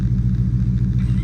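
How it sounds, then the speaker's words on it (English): Deep, steady engine rumble from a Dodge Charger with a cammed 5.7 engine while driving, loud and close with a pulsing low drone and no talk. "I'm driving this bitch, y'all"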